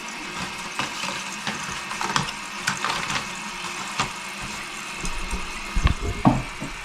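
Water running and splashing into a sump pit during a sump pump replacement, a continuous trickling wash with irregular drips and gurgles, fairly close, over a faint hum.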